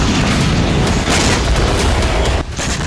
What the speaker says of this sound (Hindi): जोरदार धमाके के साथ गाजा के सबसे बड़े अस्पताल अल-शिफा को उड़ाया गया